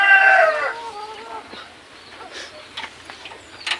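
A rooster crows nearby, its call trailing off, followed by a few soft, scattered clucks and faint background sounds.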